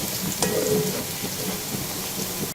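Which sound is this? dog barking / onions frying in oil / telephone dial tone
onions frying in oil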